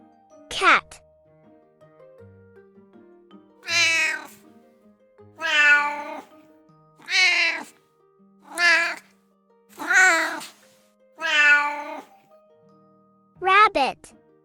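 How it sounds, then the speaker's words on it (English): A cat meows about eight times, clearly and up close, each drawn-out call spaced a second or two apart against near silence. "cat."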